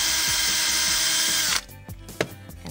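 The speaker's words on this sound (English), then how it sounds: "I need to drill a hole to my back here" A power drill boring a hole through leather for a beer holster, a steady loud whine lasting about a second and a half, then stopping, followed by a few softer handling clicks and knocks.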